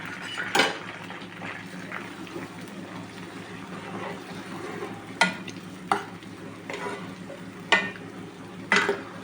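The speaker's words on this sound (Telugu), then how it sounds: "ఇలా కలబెడుతూ మీడియం మంట మీద ఇదంతా దీనిలో కాగి బాగా ఈ ఫ్లవర్స్ అంతా డ్రై అయ్యేదాకా కలుపుకో" Hibiscus flowers being stirred in coconut oil in a pan over a medium flame: a steady low sizzle with intermittent scraping clinks of the spoon against the pan, close and fairly quiet.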